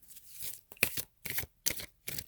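Tarot-style chakra cards riffled and shuffled by hand in quick bursts, with short pauses between, then a card pulled from the deck; close and fairly quiet, with no voices.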